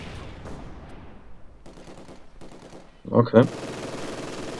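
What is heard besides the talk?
gunfire in video game Company of Heroes 2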